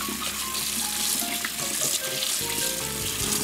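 Soaked salt cod rinsed generously under running water, a steady close splashing and hiss of a flowing tap with no pauses throughout.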